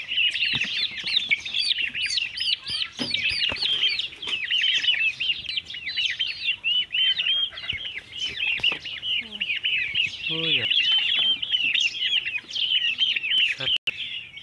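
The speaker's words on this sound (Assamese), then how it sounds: "এই টাৰ্কিৰ পোৱালিকেইটা মই আজি বিক্ৰী কৰি আছোঁ বৰপাদা হাউলিত" A crowd of turkey poults peeps continuously in high, thin, overlapping calls, close and loud, with occasional clucks and handling noises underneath.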